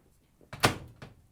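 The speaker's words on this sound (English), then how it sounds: "Close the door," The door of an LG/Kenmore front-load washing machine shuts with a single close thunk, followed by a softer latch click a moment later, close by with no talking.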